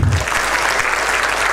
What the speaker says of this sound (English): First, you will clap for yourself.